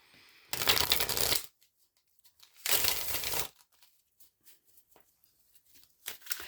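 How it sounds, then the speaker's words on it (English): Tarot cards riffle-shuffled twice in quick, crisp bursts, then a short third flutter near the end, close and clear against near silence. "We'll give the tarot a couple shuffles."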